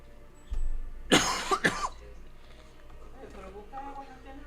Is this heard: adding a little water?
no